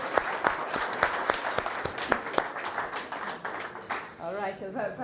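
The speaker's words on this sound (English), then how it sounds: "I think we should give a big round of applause to Piotr and Dorota." Applause from an audience at an indoor office event, with scattered sharp claps building into steady clapping for several seconds before a voice begins speaking near the end.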